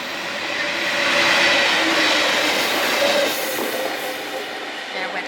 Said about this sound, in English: There went the train through fast.